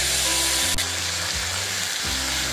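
Spice paste and a torn bay leaf frying in hot oil for an egg curry, a steady broad sizzle filling the clip with a brief stir or scrape partway through.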